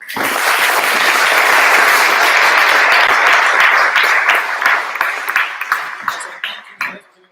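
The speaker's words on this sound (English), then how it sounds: "So round of applause for Kenneth Kikier" Loud, sustained applause from a large audience after a panel at a politics summit fills the room, then thins out into scattered claps before fading.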